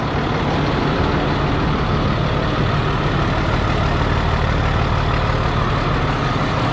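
A classic truck engine idles steadily just after firing up, following two to three months of sitting unused: a loud, close, constant low rumble with no talk over it.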